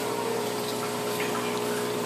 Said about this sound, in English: WP25 wave maker doing its job of creating flow in the tank